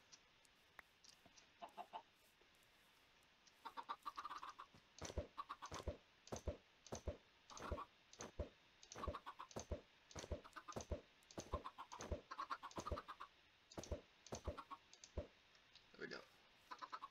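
Minecraft chickens clucking in a pen, a busy stream of short clucks and clicks repeating close up, mixed with rapid keyboard-like tapping throughout.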